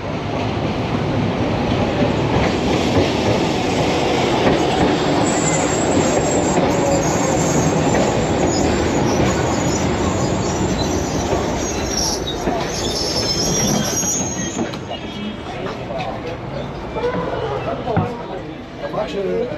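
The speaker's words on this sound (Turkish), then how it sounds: "Şimdi tramvaya bineceğim." Steady loud rumble of a tram in motion in Alexandria, Egypt, with rattling wheels and occasional squeal, people talking faintly underneath throughout.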